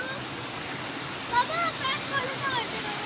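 A small stream runs down through a village at Kalse Dhamapur, a steady rushing flow with a few brief splashy swells. Voices are faintly present.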